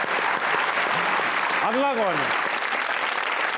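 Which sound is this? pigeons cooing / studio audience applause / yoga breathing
studio audience applause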